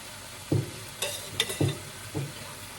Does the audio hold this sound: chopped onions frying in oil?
yes